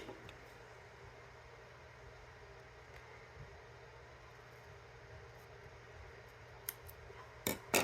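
Scissors cutting a nail polish strip in half: quiet room tone, then a couple of brief close snips near the end.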